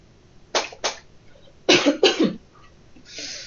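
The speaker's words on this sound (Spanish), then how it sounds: "voy a tomar agüita porque me está dando mucha tos" A person coughs several times in short bursts, two quick coughs then a harsher pair, followed by a soft breathy exhale, close and fairly loud.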